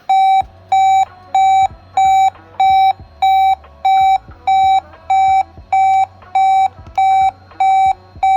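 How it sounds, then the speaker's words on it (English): A loud, piercing low-battery alarm from an iFlight Commando 8 radio transmitter repeats in a steady rhythm, about fourteen evenly spaced tones, each clear and sustained with brief gaps between. "When the voltage got critically low, it let out the loudest, super clear sound"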